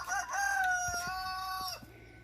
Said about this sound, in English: There's a little patch of chickens over here.